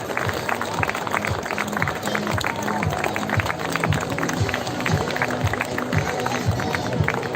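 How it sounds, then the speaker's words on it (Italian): Audience applause for Cinzia on the runway at a fashion show: dense, steady clapping from a crowd that fills the whole stretch, with a low rhythmic backing underneath. "Un applauso alla Cinzia."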